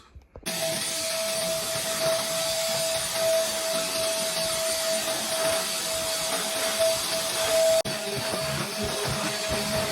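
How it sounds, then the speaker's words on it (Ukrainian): Household vacuum cleaner switched on and droning continuously for several seconds with a steady high whine, close and loud, a brief bump near the end as it is moved. "буду пилососити, прибирати знову, бо вже настав час"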